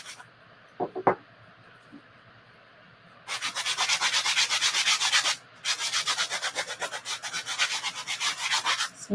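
Hand sanding of wood with an inexpensive Dollar Tree sanding block: a few faint knocks first, then steady, rhythmic back-and-forth scraping strokes, close and fairly loud, pausing briefly before resuming.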